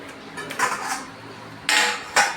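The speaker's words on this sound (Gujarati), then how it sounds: "વાસણ કાઢીને આ જો ઢગલો વાસણ કરીને ગઈ હતી." Pots, dishes and cutlery clatter and clink as they are handled in a home kitchen, a few sharp close metallic knocks separated by brief pauses.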